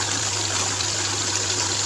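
A currency counting machine riffles through a stack of 20-rupee notes, producing a steady, close whirring flutter with a low electrical hum underneath and no break in the rush of paper.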